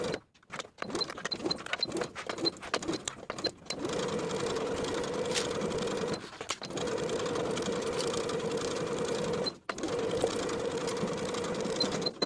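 A sewing machine stitches a curved shorts waistband seam with a 3/8 inch seam allowance on high-waisted A-line shorts, running in close, steady stretches broken by a few short pauses.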